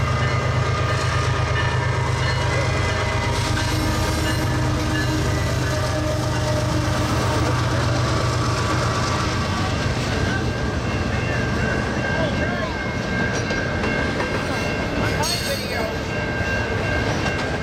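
A BNSF double-stack freight train passes in Rochelle, Illinois, with a 25th anniversary tribute unit trailing: a loud, continuous rumble and rattle of cars close by, with a sustained horn-like tone early and scattered clanks.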